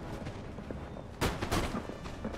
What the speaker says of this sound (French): c'est comme ça qu'on tire au canon